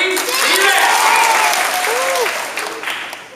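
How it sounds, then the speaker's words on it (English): Schoolchildren applaud at an elementary school assembly, a broad burst of clapping mixed with excited young voices and shouts, loud and close, fading slightly at the end. "we want to give our applause on the count of 1, 2, 3 to the amazing T-Rex"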